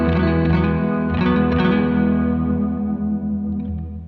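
A guitar tone through a compact plate reverb pedal, warmed slightly left of center on the tone knob, sounds as a dense sustained wash that fades smoothly toward the end, with no voice.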